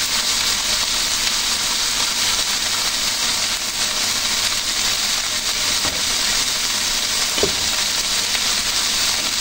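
Kuetiau noodles stir-fry with oyster sauce in a hot pan, a loud, close, unbroken sizzle with a brief clink of the utensil near the end.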